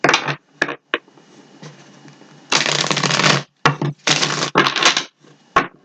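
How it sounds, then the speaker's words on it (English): Tarot cards are shuffled during a reading, several close crisp riffling bursts of varying length separated by short pauses, loud and with no talk over them. "Give it a couple of shuffles."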